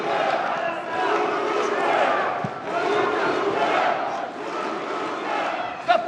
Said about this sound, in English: Crowd chanting Burduja.